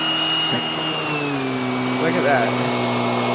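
Steady, loud whine of a Hoover React Professional Pet vacuum cleaner with its brush roll spinning fast on a couch, a continuous motor hum with a slight pitch shift partway through, while a person briefly speaks over it.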